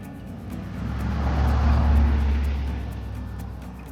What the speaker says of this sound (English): Not a lot of traffic here, but unfortunately we're really close to a road.